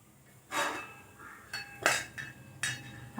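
A metal lid is set onto a pot of marinated small fish, giving several light, close metallic clinks and clatters spaced across a few seconds in an otherwise quiet kitchen.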